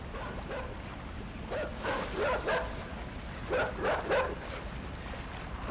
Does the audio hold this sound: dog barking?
yes